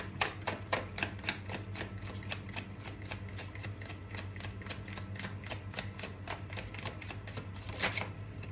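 A tarot card deck being shuffled, with steady quick riffling clicks and papery flutters repeating close to the microphone over a low constant hum, no talking.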